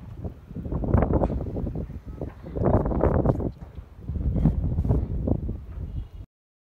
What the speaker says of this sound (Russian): Ветерок дует, вот так как сейчас лето,